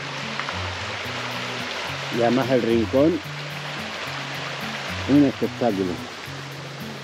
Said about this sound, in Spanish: ¡Qué bonita que es el agua